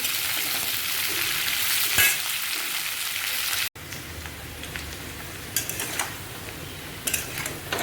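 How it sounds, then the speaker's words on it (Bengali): Cauliflower pieces fry in hot oil in a pan, a loud continuous sizzle broken by occasional stirring scrapes, with a brief cut midway. "ফুলকপিটা ভাজা হয়ে গেছে"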